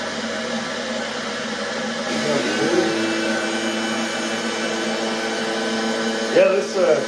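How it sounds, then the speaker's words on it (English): An electric skate sharpener grinding ice skate blades gives a steady motor whine and grinding hum that shifts in pitch as the blade moves, with a brief louder scrape near the end. "this skate sharpener works really well"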